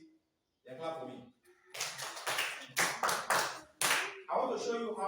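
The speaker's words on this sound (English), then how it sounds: "They clap for me" Pupils in a theater class give a few short bursts of group clapping, loud and close, separated by brief gaps, with a speaking voice before and after the claps.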